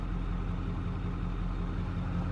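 A 2013 Cummins diesel truck engine with 100,000 miles idles with a steady low rumble, cooling fan off, close and even, with no voices.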